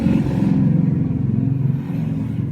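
A Yamaha RX King motorcycle engine idles with a loud, steady low rumble, a rapid knocking clatter from a worn cylinder bore running through it for the whole stretch.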